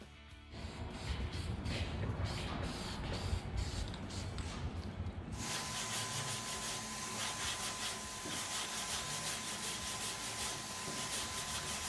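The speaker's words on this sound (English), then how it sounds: "now I'm going to use the orbital inline sander. It's a longboard sander, but it's orbital" An orbital inline longboard sander blocks body filler on a car's damaged panel, producing a steady close whirring hiss with rapid pulsing texture that becomes brighter and more continuous partway through, no talking.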